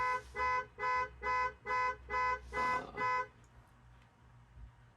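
An old-style car alarm blares a rhythmic horn-like tone, about seven evenly spaced pulses, then stops and leaves faint background noise.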